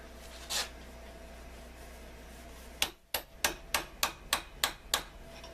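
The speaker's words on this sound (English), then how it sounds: "Grab our little ball peen hammer." A small ball peen hammer drives a roll pin into an AR-15 upper receiver, giving a quick series of about eight sharp metallic taps in steady rhythm, close and clear after a single earlier tap and a pause.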